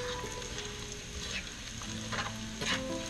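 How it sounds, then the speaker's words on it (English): Bacon frying in a pan for chicken carbonara, its grease bubbling hard: a steady, dense sizzle and crackle runs throughout, with brief brighter spits and pops, and no talking. "Gets harder to see the bacon when it gets done like this because your grease starts to bubble up a lot."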